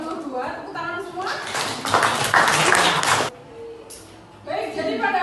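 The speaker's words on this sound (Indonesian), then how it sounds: "Tepuk tangan semua." A group of students claps together in a classroom, a short burst of mixed clapping that swells and cuts off abruptly, then resumes, with children's voices and talking around it.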